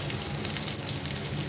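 Onions frying in a pan of cooked dal for chickpea greens, a close steady crackling sizzle without talk.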